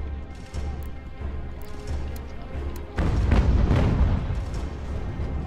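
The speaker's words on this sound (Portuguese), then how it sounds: "os canhões estão acertando geral aqui" Heavy booming cannon fire rolls in repeatedly, growing louder and denser midway into a sustained barrage of blasts and crashes, in the video game Ultimate General: American Revolution.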